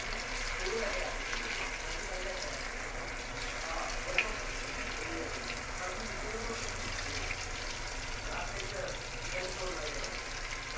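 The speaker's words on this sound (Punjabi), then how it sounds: "ਹੁਣ ਜੀ ਅਸੀਂ ਤਲਾਂਗੇ ਸਾਰਿਆਂ ਨੂੰ ਗਰਮ ਹੋ ਗਿਆ ਜੀ ਤੇਲ ਸਾਰੇ ਤਲਾਂਗੇ" Paneer kofta frying in hot oil makes a steady, even sizzle that runs unbroken throughout, with voices talking over it.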